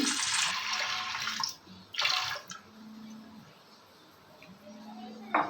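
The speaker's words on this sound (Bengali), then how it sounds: "এর মধ্যে দিব পানি" Water is poured into a pressure cooker while cooking chana dal. A splashing pour lasts about a second and a half, then a brief second pour follows, with a voice speaking quietly between them.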